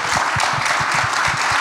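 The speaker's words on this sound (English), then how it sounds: "And another round of applause for Prineville," Steady applause from an audience at a regional city managers forum, dense and sustained for under two seconds, with no talk over it.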